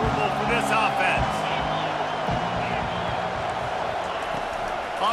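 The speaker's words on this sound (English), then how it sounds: "This crowd trying to make life miserable for this offense." A large crowd roars steadily in a college football stadium during an Oklahoma versus Miami game. The noise is a loud, dense, continuous wash, and a commentator talks over it.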